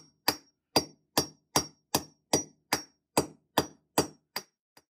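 Anchors being hammered in to bolt a home safe to the floor: eleven evenly spaced, sharp metallic blows, close and loud, with a steady rhythm of about two strikes per second and silence between.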